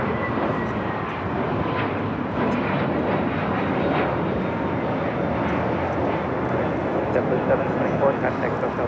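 A JetBlue Airbus A321neo jet takes off at LAX, a loud, steady engine roar sustained throughout while someone talks over it.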